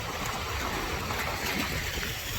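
Cars hiss through rainwater on a wet road in steady, broadband splashing and spray, fairly close, with no voices over it.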